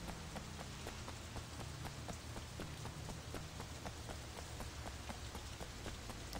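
Steady rain falls in a dense hiss in the video game Sleeping Dogs, with regular light tapping like footsteps on wet ground.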